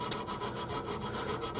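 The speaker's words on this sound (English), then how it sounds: "We're going to start off with this Scotch-Brite pad, going over it. Just kind of cleaning and sanding" An old guitar recovered from a dusty attic is scrubbed with a Scotch-Brite pad, giving a quick, regular back-and-forth scratchy rubbing close up, about eight strokes in under two seconds with no voices.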